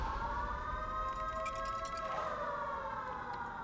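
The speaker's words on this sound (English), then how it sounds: "More sirens, more sirens." Overlapping sirens wail from the city-building game Sim City 3000, with sustained rising and falling tones that hold steadily at moderate loudness throughout, with no talk.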